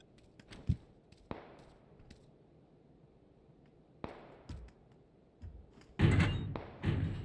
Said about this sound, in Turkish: Kapıyı sen mi açtın?